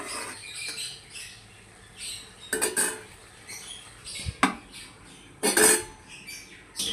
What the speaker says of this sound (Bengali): শাক আর আলুটাকে দিয়ে দেওয়ার পর একটু নেড়ে চেড়ে ঢাকনা দিয়ে ঢেকে দেবো।